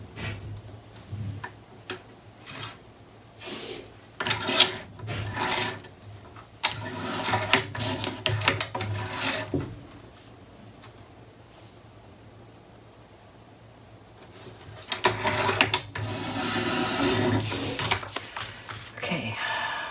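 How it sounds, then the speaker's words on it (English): An ink pad dabbed along a paper edge during a papercraft mini album build: rapid, soft tapping and rubbing in bursts, a quiet pause in the middle, then another busy stretch, close and fairly faint. "I'll need to re-ink that edge."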